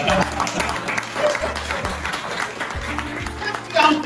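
Audience clapping at a Longrich multi-level-marketing presentation, a burst of applause from a crowd with voices mixed in beneath.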